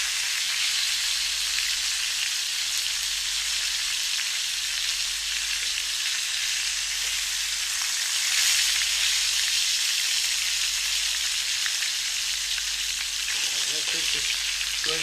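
Flounder frying in olive oil, an even, continuous sizzle with a bright crackling hiss held at a steady level throughout, no talking.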